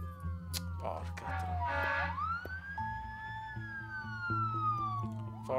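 Police car sirens wail in the SimCity city-builder game, several rising and falling tones overlapping against a low steady game hum, moderately loud and clear, with no talk over them.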